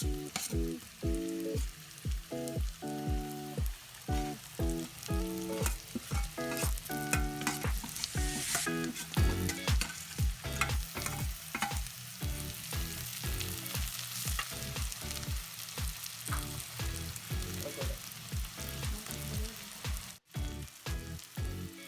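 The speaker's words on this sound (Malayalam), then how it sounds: "ആ ചതച്ച് വെച്ചിരുന്ന ബീഫ് ഇതിലേക്ക് നമ്മൾ ചേർത്ത് കൊടുക്കുന്നു" Stone-crushed beef frying in a pan, a loud close sizzle with rhythmic stirring scrapes and clatter repeating throughout, no voices.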